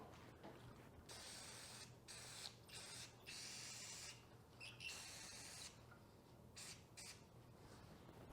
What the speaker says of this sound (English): we'll do one more spray